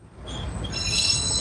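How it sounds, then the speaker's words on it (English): A metro train rumbles past, a steady low roar building with high metallic squealing from the wheels, growing louder toward the end. "See, that's the train y'all keep hearing."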